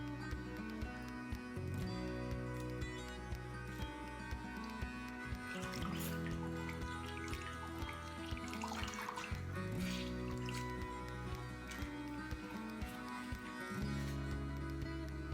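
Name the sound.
fabric pieces dropped into a dye bath, dripping liquid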